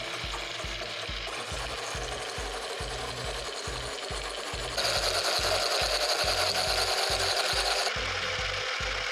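A machine grinding cocoa into Jamaican chocolate runs with a steady rubbing, scraping churn and a rapid rhythmic knock, growing louder and brighter partway through as blended chocolate is added back in.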